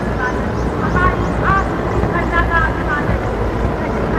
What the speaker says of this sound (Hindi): आकाश में Mi-17 हेलीकॉप्टर्स कार्यक्रम स्थल के नजदीक आते हुए और पुष्प वर्षा कर रहे हैं आकाश से